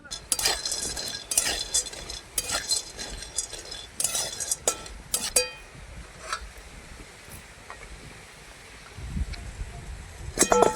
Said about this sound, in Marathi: आणि हा सांडगा पहिल्यांदा भाजून घ्यायचा.